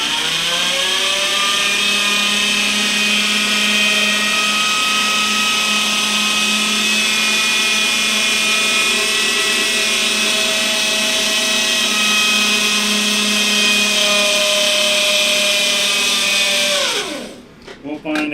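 A cheap power drill running continuously at a steady high whine with strong harmonic tones, loud and close, then winding down and stopping near the end.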